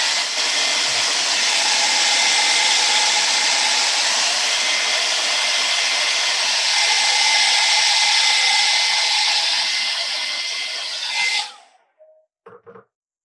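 A hair dryer blows steadily and loudly for about eleven seconds to dry a watercolour painting, then switches off, followed by a few brief faint knocks.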